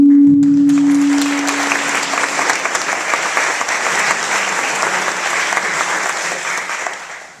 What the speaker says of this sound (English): Please give him a welcoming hand.